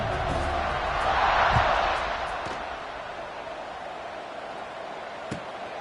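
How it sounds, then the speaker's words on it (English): A large football stadium crowd buzzes after a score, a broad roar swelling briefly then settling into steady murmur, with a faint thump or two in the distance. "this crowd is buzzing after that last score"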